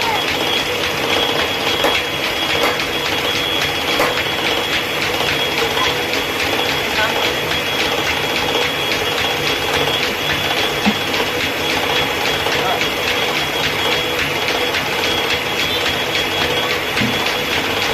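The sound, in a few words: old single-phase ship motor running under load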